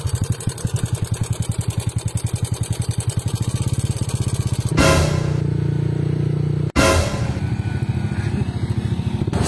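A motorcycle engine with a fault idles loudly up close with a steady rapid pulsing, interrupted by two sharp bursts of noise before the rhythmic chugging resumes.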